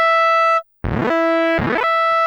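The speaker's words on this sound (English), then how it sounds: "we can hear we are strumming through that chord" A budget synth keyboard in chord mode sounds a sustained tone, goes briefly silent, then strums through a chord twice in rapid swept notes before the tone holds again.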